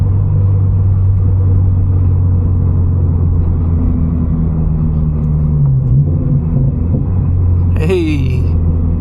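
A slammed Subaru BRZ drives along rough California roads, with a loud, steady low engine and exhaust rumble heard from inside the cabin throughout and a brief higher whine or squeak near the end.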